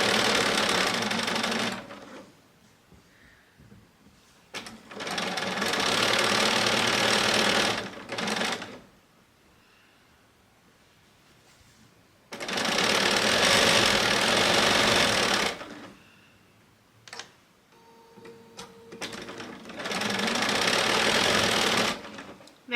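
Domestic sewing machine chain piecing quilt blocks, running in several long steady bursts of rapid stitching separated by quiet pauses with small handling noises.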